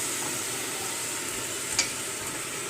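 Lamb chops cooking in a pot with a little water give a continuous hissing sizzle, close and even, with one brief clink near the end; no talking.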